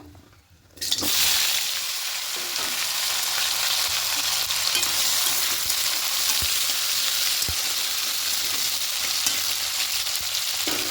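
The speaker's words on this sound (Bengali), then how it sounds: "এবার সবজিগুলো হালকা করে একটু ভাজা ভাজা করে নেবো" Vegetables hit a hot oiled pan with a sudden loud burst of sizzling after a quiet second, then fry in a steady, dense hiss with occasional faint stirring clicks and no talking.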